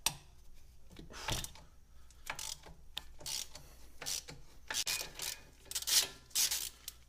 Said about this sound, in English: Put the locking pliers on the rear, on that little bolt.